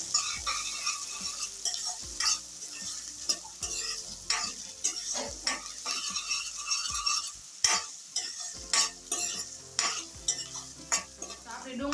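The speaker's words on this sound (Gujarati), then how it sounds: "આપણે ડુંગળી અને મરચાંને આ રીતના હલાવી અને થોડુંક આછો ગુલાબી થાય ને ત્યાં લગી તળવા દઈશું" Onion and chili sizzle in a hot pan while a spoon stirs and scrapes against the metal in uneven strokes.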